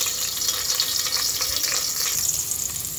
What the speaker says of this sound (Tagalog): Dahil ready na lahat, magigisa na tayo.